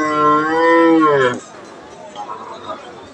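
A young crossbred cow at a cattle market gives one long, loud, wavering moo lasting over a second, followed by quieter murmuring of people in the background.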